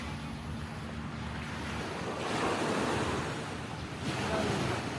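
Sea surf washing steadily at a Mactan beach resort overlooking the water, a continuous broadband rush that swells louder midway, mixed with wind noise on the microphone and no clear talk.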